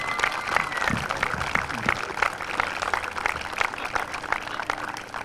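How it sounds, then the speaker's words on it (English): Crowd applause at a girls' softball league opening day ceremony, steady clapping from many people sustained throughout, moderately loud and dense with a few brief voices mixed in. "So I want to give Alex a round of applause in the Recreation Department because he's helped us immensely"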